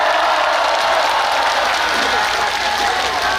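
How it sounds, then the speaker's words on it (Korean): Steady, dense applause from a large crowd at the Naju Yeongsan River festival, loud and continuous for the whole stretch, with a faint undertone of voices. "박수 함성이 조금 더 크면 얼마나 좋을까라는 생각을 한번 해봤어요"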